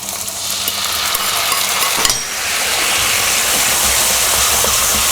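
Marinade poured into a pan of pork that has been frying over medium heat, a sudden burst of loud close sizzling that then settles into a steady, strong fry with a faint stir near the start.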